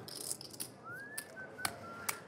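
Someone at a poker home game whistles a faint, brief rising tune, with a few soft clicks around it in a quiet room.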